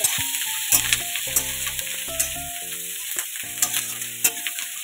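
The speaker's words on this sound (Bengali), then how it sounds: "আর এদিকে আমি কুমড়ো দিয়ে আলু দিয়ে মাছের তরকারিটাও চাপিয়ে দিয়েছি।" A pan of fish curry with pumpkin and potato cooks on the stove with a steady sizzle and scattered sharp crackles, set against tonal background music.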